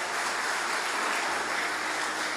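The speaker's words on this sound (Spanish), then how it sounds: "Démosle ese aplauso a Jesús" Church congregation applauding together, a dense, steady wash of clapping that fills the room evenly throughout.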